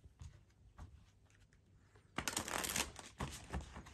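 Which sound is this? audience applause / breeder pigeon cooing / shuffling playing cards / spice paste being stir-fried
shuffling playing cards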